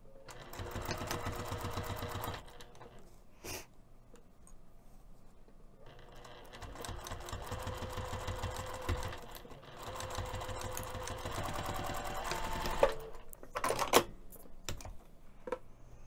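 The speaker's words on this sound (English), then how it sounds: "we're going to be sewing from one end to the other of the exterior using 1/4 inch seam allowance" A sewing machine runs along the exterior of a fabric pouch with a quarter-inch seam, in several bursts of rapid needle clatter and motor hum separated by short pauses and small clicks.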